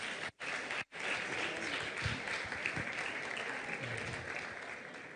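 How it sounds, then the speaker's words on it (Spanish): A church audience applauds to welcome Reverend Martínez, sustained crowd clapping heard fairly faintly and evenly for several seconds after two brief dropouts at the start. "recibamos con un aplauso al reverendo Martínez"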